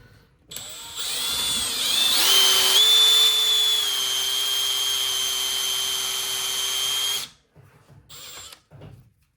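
A Milwaukee cordless drill bores into a Hammer Effect bowling ball at home, giving a loud, sustained whine that starts abruptly, rises in pitch, holds steady for about six seconds, then cuts off, followed by a few brief clicks.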